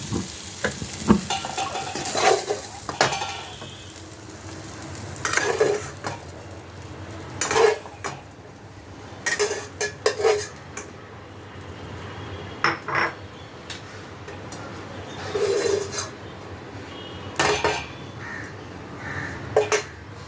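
Utensils scrape and clink against a pan as fried jujube flowers (yukti phool) are lifted out after the gas is turned off, with scattered metallic knocks over a faint background sizzle, no voices.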